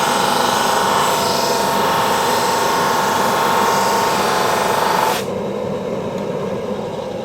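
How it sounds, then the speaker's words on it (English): A power sander grinding the base of a wooden plane in a woodworking shop, a loud, steady, harsh whirring rasp that runs continuously for several seconds before cutting out into a lower, lingering motor hum. "If you run it through a few times, you've got to allow the sander to actually sand."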